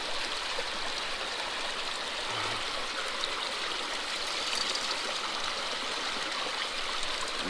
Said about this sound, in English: the material just gets cleaned out real fast right there on my sluice